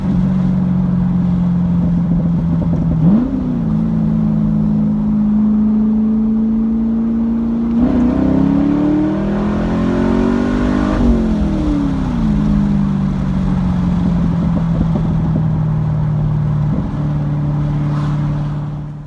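Camaro SS 1LE V8 with an x-pipe and deleted resonators and mufflers, loud and close, holding a throaty idle broken by several sharp revs that rise and fall back, with no talking over it.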